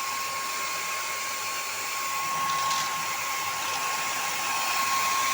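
A hair dryer heats a cow-design scented candle. Its close, steady blowing roar and thin constant whine run without a break and grow slightly louder partway through.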